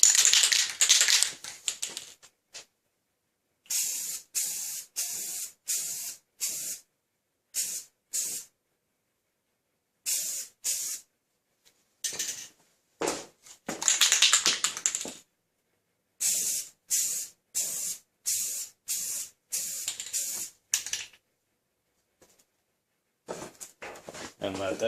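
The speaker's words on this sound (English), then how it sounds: "And now go ahead and apply your second coat." A spray can lays a coat of paint on a cracked front car bumper in a series of short hissing bursts, close and loud, with silent pauses between passes.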